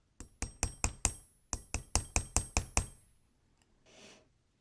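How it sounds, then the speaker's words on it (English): A nylon-faced hammer tapping jewelry wire for earrings, eleven crisp, evenly spaced metallic taps in two quick bursts, close and clear, followed by a soft rustle. "Got the nylon side on my hammer."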